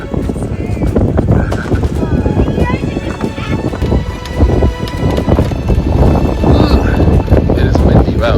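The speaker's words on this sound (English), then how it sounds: "It is windy." Strong gusts buffet a swaying canyon suspension bridge in Bear Canyon, a steady loud rush of wind noise battering the microphone throughout, with people talking and exclaiming over it.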